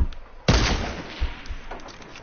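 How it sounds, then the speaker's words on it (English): Video game gunfire: a sharp, loud shot bursts out and trails into a reverberant rumble, followed by a couple of fainter pops, with no talking over it. "I'm just shooting randomly. I should just shoot him."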